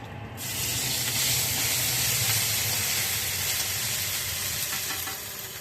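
Onions sizzle loudly in hot oil with fried cumin, a sudden burst of crackling hiss that holds steady for several seconds before easing slightly.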